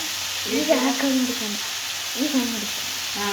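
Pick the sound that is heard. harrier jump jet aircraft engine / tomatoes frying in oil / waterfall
tomatoes frying in oil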